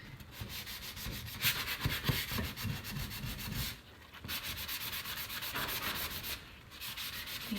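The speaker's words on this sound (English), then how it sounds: "I am going to do a little bit of sanding." Sandpaper rubbing over dry, layered-painted wooden furniture in steady back-and-forth strokes, close and continuous with two brief pauses, no talking.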